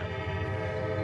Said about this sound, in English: Is that train.